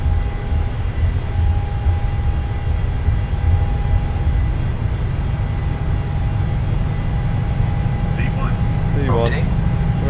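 A simulated PMDG Boeing 737-800 rolls down the runway at takeoff thrust, its engines a steady, loud broadband roar with a faint whine, while a voice speaks briefly near the end.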